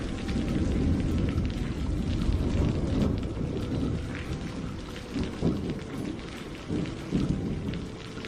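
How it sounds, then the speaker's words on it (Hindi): Heavy rain pours down steadily with thunder rolling through it, a dense hiss of drops on surfaces punctuated by low rumbles and a few sharper cracks, continuous and fairly close for the full length. "बारिश अब और भी तेज होती जा रही थी।"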